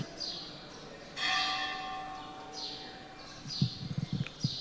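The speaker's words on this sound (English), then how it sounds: "We'll wait for 8 bells." A bell rings out with a sustained, ringing tone that lingers and fades, joined by faint bird chirps and a few low thumps near the end, with no talking.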